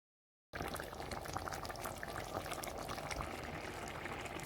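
Okra goes into a simmering pot, giving a faint, continuous bubbling and watery churn that begins suddenly after a moment of silence and stays steady without talk.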